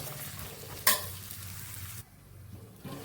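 Garlic frying in a pan for a Kerala-style garlic pickle, a steady close sizzle with a sharp scrape of stirring near the start and a brief dip in the hiss toward the end.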